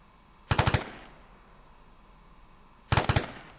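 Two short machine gun bursts of about four rapid shots each ring out in Arma 3, separated by a couple of seconds of quiet, each burst sharp and fairly close with a brief tail.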